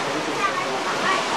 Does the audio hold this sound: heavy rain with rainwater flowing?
yes